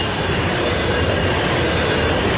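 A Norfolk Southern freight train rushes past at close range in Fostoria, Ohio, a loud, steady roar of rolling rail cars with squealing wheels filling the whole stretch.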